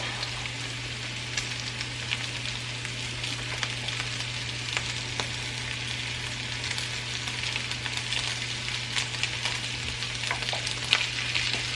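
Leftover rice frying in a pan, giving a steady close sizzle with scattered crackles and light stirring over a constant low hum, no voices.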